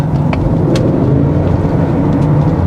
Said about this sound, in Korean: 요 엔진 소리가 좀 커지긴 하는데